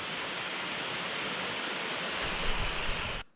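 A forest waterfall cascades in New Caledonia's Desmazures forest, giving a steady, dense roar of rushing water with no talk, ending abruptly.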